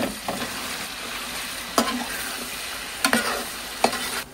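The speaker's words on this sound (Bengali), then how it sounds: "তারপর তেলটা গরম হয়ে গেলে আমি চিকেনের পাগুলো দিয়ে দিচ্ছি। এগুলো আমি জাস্ট হালকা ফ্রাই করে নেব।" Chicken feet frying lightly in hot soybean oil in a pot, a steady low sizzle with occasional sharp stirring clicks and scrapes, close and moderately loud, no voices.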